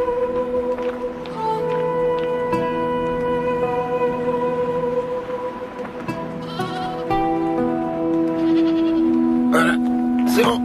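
A goat bleats repeatedly, loud and close, in drawn-out wavering cries that come in several separate calls, some overlapping, with a voice talking faintly underneath.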